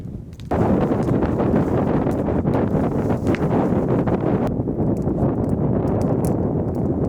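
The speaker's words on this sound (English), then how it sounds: "It is windy as hell." Strong wind buffets the microphone in a steady, loud roar with gusty fluctuations throughout, no voices, at a riverside campsite on the Snake River in Washington.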